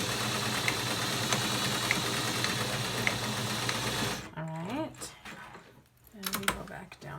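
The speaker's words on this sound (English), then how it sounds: "sew the other end of the elastic in this corner" A sewing machine hums continuously up close while stitching elastic onto a fabric mask, then cuts out partway through, leaving a person speaking over faint handling noise.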